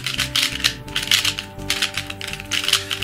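Rapid, loud clattering clicks from a non-magnetic ShengShou Legend S 3x3 speedcube being turned, bursts of plastic turning noise repeating close up with brief pauses between them.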